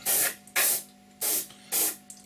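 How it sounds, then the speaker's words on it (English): Paint overcoat sprayed from an airbrush onto an Eduard 1/76 B-24 scale model aircraft: four short, close hissing bursts separated by brief pauses, with no talking. "So just spray the entire area, and that will hopefully blend it in just a little bit."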